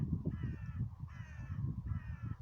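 Crows caw over a heath at dusk, three harsh calls spaced about evenly, fairly clear above a low outdoor rumble.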